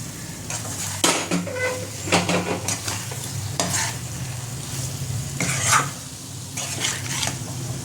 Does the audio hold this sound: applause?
no